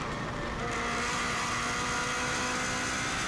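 A 2016 Subaru WRX STI races flat out onboard at the Isle of Man TT, its engine a loud, steady roar under heavy wind and road noise with no pauses.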